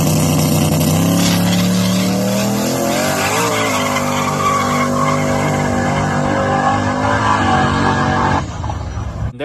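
A drag race car in a brand new build makes a full pass on a no-prep track, a loud, sustained engine roar with tire squeal that holds steady and then cuts off near the end.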